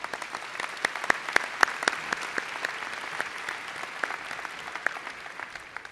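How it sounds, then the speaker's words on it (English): A graduation audience applauds school board members in a large hall, steady mid-level clapping with scattered sharp individual claps throughout, no voices. "Please give our board members a round of applause."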